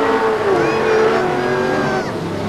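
Race cars accelerating on a small oval track, with a loud, continuous roar of several engines rising and shifting in pitch as they come down the home straight, with commentary talk running underneath.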